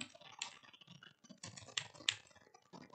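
Rapid typing on a computer keyboard while writing HTML, uneven bursts of clicky keystrokes at close range with no talking.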